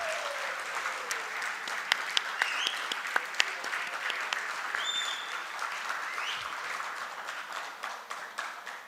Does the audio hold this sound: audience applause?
yes